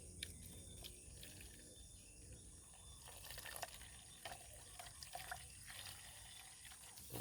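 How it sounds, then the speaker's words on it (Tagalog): Quiet, continuous splashing of water being poured into a sprayer mix of insecticide and fungicide, with faint clicks and chirping in the background. "Siyempre lagyan natin ng tubig"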